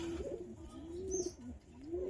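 Giribaz pigeons coo steadily at close range, a low repeated rolling call with a few brief higher chirps over a constant background hum, no talking.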